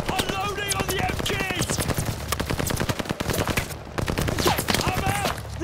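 Sustained automatic gunfire from a machine gun position in Call of Duty Vanguard, with rapid bursts that run almost without pause, loud and dense, and shouted voices mixed in under the shooting.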